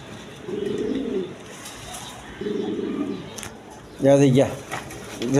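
A pair of Sirazi Lahori pigeons coo at a pigeon farm, low rolling bursts repeating close by, with someone talking over and between the calls.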